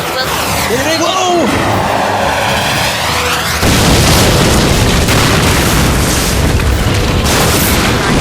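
A loud, sustained explosion as a hangar is destroyed in the video game The Rim of Heaven, with a sharp blast onset followed by seconds of dense rumbling debris, preceded by aircraft noise.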